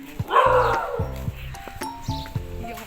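Dogs on a street bark in several short sharp yelps and barks, fairly close, with rustling movement and faint background noise between them.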